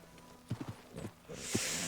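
Horse hooves clop in the video game Red Dead Redemption 2, a few quick soft hoofbeats in short bursts, followed by a rising hiss of wind or noise near the end.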